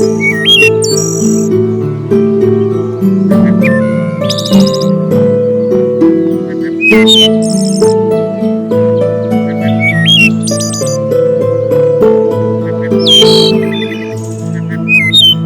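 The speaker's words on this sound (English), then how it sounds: "its loud, flute-clear song rings through the forests of the eastern U.S." A wood thrush sings its flute-like song in an eastern forest, loud and near, with clear fluting phrases and rapid high trills repeating every couple of seconds over a sustained chordal background.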